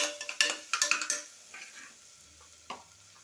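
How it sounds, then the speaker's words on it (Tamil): Peanuts and rice are stirred in a frying pan, a spoon scraping and clinking in quick bursts at first, then slower, quieter stirs with a soft sizzle underneath. "இதை நல்லா கிளறிடணும். நல்லா வதங்கட்டும்."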